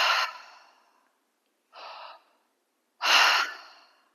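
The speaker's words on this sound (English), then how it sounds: "We're going to be breathing exclusively through an open mouth." Three separate breaths are drawn in and pushed out through an open mouth, airy and close. Each is a short, breathy rush with quiet pauses between, and no one speaks.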